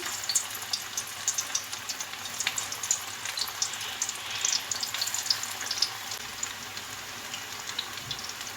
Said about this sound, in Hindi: पकोड़े जो हैं ब्राउन होना शुरू हो गए हैं